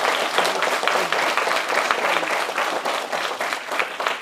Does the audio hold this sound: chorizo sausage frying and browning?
no